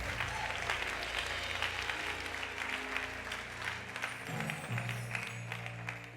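A church congregation applauding during a sermon, a dense sustained clapping from a crowd that fills the room, steady in level, with faint voices mixed in beneath.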